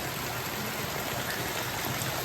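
Heavy rain pouring steadily during a flood in Porbandar district, Gujarat, a dense, continuous wash of water noise with no letup, close and even throughout.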